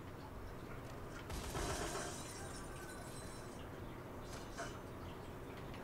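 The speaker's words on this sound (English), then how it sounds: "Break the glass." Glass smashing in the video game Dead Rising 3: a sudden bright crash and scatter of shards rising over constant game background noise, followed later by a smaller clattering hit.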